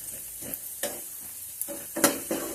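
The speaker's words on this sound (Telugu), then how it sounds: "1 నిమిషం మనం వేయించుకుందాం." Tempering spices with turmeric and salt frying in a pan for poha upma, a soft, quiet sizzle broken by a few sharp stirring scrapes and taps, with no talk.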